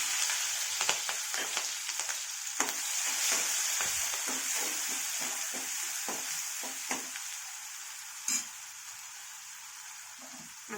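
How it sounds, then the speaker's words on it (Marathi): Green chillies and garlic fry in a pan, giving a soft, steady hiss with frequent small pops and crackles, close and fairly quiet, with no talking. "लसण थोडासा लालसर झाला ना तर आपल्याला ही हिरवी मिरची टाकून घ्यायची"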